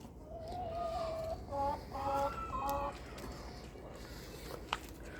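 Chickens fed barley sprouts make a string of close, quavering clucks and short drawn-out calls over a soft background murmur, with a few pecking taps toward the end.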